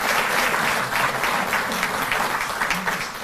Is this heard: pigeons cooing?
no